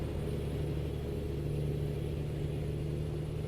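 A heavy truck engine labors up a winding hill road in American Truck Simulator, a steady, loud low rumble with a constant droning hum and no break.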